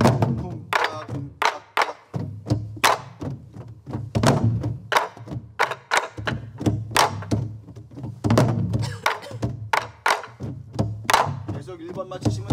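A Korean sori-buk drum played in a pansori rhythm, steady close strikes that alternate deep booming hits on the head with sharper cracks on the rim, repeating throughout the cycle with no voice over it.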